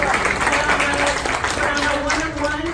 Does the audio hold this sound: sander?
no